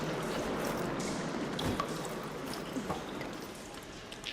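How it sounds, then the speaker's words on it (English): Water rushes and trickles through pipes inside the game Horizon Forbidden West, a continuous splashing flow with faint drips and small gurgles layered on top, moderately quiet and steady throughout. "Sounds like the water's switched."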